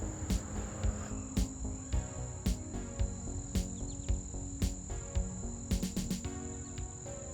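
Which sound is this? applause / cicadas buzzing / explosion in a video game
cicadas buzzing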